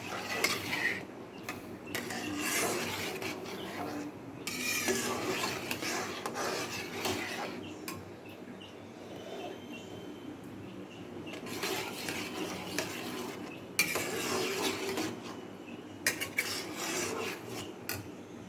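A spoon stirs wheat and almond halwa in a pan over high flame, producing continuous soft rasping and scraping against the metal, with small clinks at intervals.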